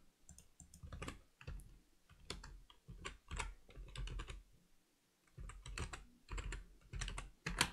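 Quiet, close typing on a computer keyboard, rapid bursts of light clicky keystrokes broken by short pauses, with one near-silent gap partway through.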